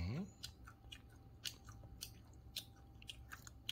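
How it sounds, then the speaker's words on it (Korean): Crispy fried chicken being eaten up close at home, with repeated sharp crunching bites and chewing spaced through the clip over quiet background; soft talking is also present. "치킨이 아삭아삭하네?"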